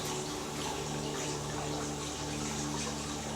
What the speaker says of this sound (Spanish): esta música que nos hace oír la naturaleza, los pájaros y el agua,